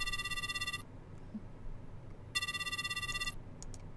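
An electronic telephone rings unanswered in a Korean horror dating-sim game, two clear bursts of shrill ringing with a pause between them, faint over a quiet low background.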